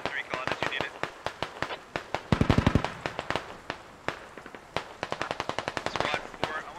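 Gunfire in the military shooter SquadOps, with many sharp single shots and rapid automatic bursts crackling in an irregular rhythm, some near and loud, others more distant, under intermittent talking.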